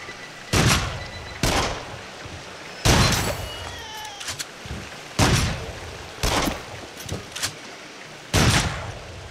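Shotgun blasts in the VR horror rail-shooter Rush of Blood on PS5, six or seven loud booming shots spaced about a second apart, with faint game effects between them and no talk.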